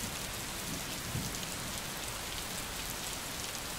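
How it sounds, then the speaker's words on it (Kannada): Heavy, steady rain pours down without a break in Vijayanagara district near the big lake at Kudligi. It is a dense, even wash of rain with no voices. "ವಿಜಯನಗರ ಜಿಲ್ಲೆಯಲ್ಲಿ ಧಾರಾಕಾರವಾಗಿ ಮಳೆ ಬರ್ತಾ ಇದೆ."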